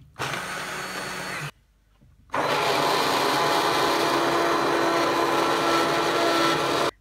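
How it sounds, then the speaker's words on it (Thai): A hand blender whirs loudly inside a hot pot of chicken curry sauce for Thai khanom chin nam ya, running steadily, briefly stopping, then running again at full speed with no talk. "อันนี้สามารถปั่นในหม้อที่ร้อนๆได้นะคะ"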